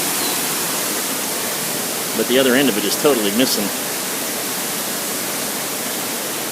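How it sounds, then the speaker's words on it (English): Water pours steadily over the top of a ruined lock and dam on the Hennepin Canal, a constant broadband rushing that fills the whole clip while someone speaks briefly over it in the middle. "the water is actually still pouring over top of it"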